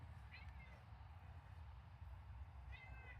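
A house cat meows twice from nearby, two short rising calls separated by a pause, over a steady low indoor hum.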